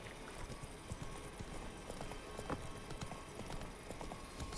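Horse hooves clip-clop steadily as a mount named Roach is ridden in the Blade of God X video game, a close, even rhythm continuing over faint ambient sound.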